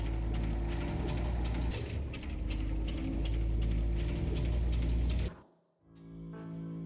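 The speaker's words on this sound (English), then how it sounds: "Teleporter sounds were also changed." Teleporter sound effect from the video game Deadlock, a dense mechanical whirring hum with ratcheting texture that cuts off abruptly, then a brief quieter humming tail.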